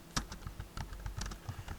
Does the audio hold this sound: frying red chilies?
no